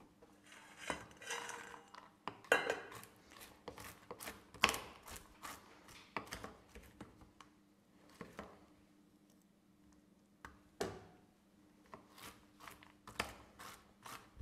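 Knife work on ingredients for Christmas cookies, heard as irregular sharp taps and chops on a board, with quiet handling noises between the cuts and a faint steady hum underneath.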